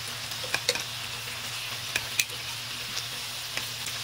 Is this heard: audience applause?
no